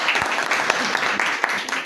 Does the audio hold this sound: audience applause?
yes